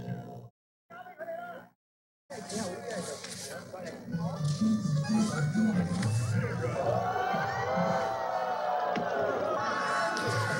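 Hundreds of spectators at Red Bull Flugtag Hong Kong cheer, shout and whoop in a loud, sustained outdoor crowd roar with children's voices, swelling after a brief silence, while a voice speaks over it.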